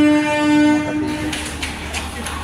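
The Sri Jagannath Express pulls out of a station, its horn sounding a long, loud tone at first before giving way to rolling rail noise and rhythmic clicks from the wheels over the joints.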